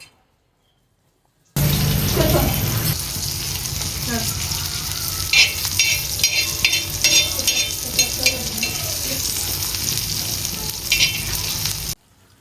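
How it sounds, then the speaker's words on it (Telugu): Fish sizzling and crackling steadily as it fries in a pan in a home kitchen, with occasional stirring scrapes and brief sharp spits throughout. "మా అమ్మ ఫిష్ ఫ్రై ప్రిపేర్ చేసింది, ఫ్రై కూడా చేస్తుంది అనమాట"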